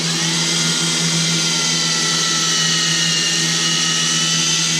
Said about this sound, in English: using a drill is a lot easier on you than elbow grease